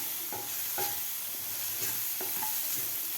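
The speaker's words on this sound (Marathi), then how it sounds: "मिडियम गॅसवरच आपल्याला ही ब्रोकोली परतून घ्यायची आहे." Broccoli sautés over medium heat in a pan with Kashmiri red chili powder, a soft continuous sizzle punctuated by a few evenly spaced scrapes and taps of a spatula stirring it, close and moderately quiet.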